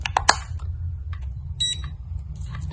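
A few short high electronic beeps from an ANENG M118A mini digital multimeter just after batteries are fitted, heard close over a low steady hum, with no talk.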